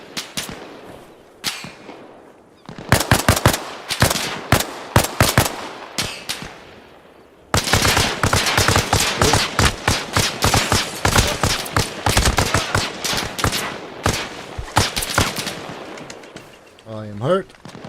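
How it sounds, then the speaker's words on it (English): Sustained gunfire in the Arma Reforger military video game: a few scattered shots, then long bursts of rapid sharp cracks from several weapons, loud and close, with brief pauses between volleys. "I can't actually see where they're shooting from."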